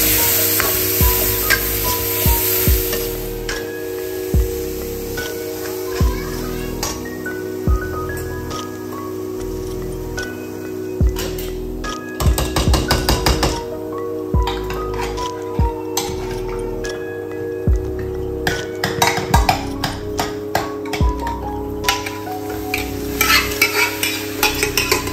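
Tomatoes and spices frying in a pan while being stirred continuously, a steady close sizzle with repeated scraping and clattering strokes of a spoon against the pan, busy and uninterrupted, with no talking.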